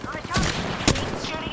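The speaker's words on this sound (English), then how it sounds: "They're shooting at me!" Video game gunfire crackles in a short burst of sharp shots, one louder crack standing out near the middle, over a busy game soundscape.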